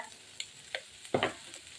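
A spoon stirs chicken patty filling in a frying pan, with a few scattered scrapes and clacks spaced apart over a faint low sizzle. One louder, fuller stroke stands out near the middle.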